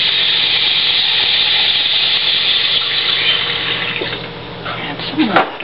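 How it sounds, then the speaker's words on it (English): Water poured from a tap into bird seed in a Pyrex glass bowl, a steady close splashing fill that runs several seconds and ends in a few louder sloshes as the flow stops. "Add some water."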